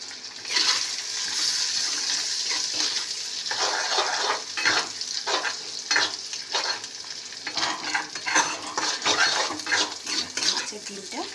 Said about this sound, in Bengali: মাছের ডিমটা নুন হলুদ দিয়ে ভালো করে ভেজে নিচ্ছি